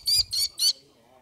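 A falcon lets out three harsh, high squawks in quick succession, loud and close, followed by a faint murmur of talk.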